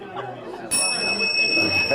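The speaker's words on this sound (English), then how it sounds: "time's up. The bell rang," A bell rings partway through to signal that time is up, a sudden bright sustained ring that cuts in over chatter and talk in a room.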